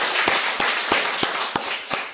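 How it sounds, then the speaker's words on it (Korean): Members of a church congregation applauding, a brief round of steady, fairly loud clapping with a regular rhythmic pulse of sharper claps running through the dense patter. "우리 초등부 4명 박수 한번 해주십시오."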